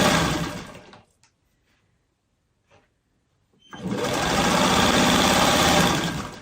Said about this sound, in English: I'm just going to sew these just like I would a typical 9 patch and sew the strips together